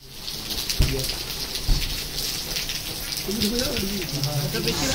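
Steady rain falling in Kashmir, a dense even hiss across the whole stretch with a few low thumps and some faint voices underneath.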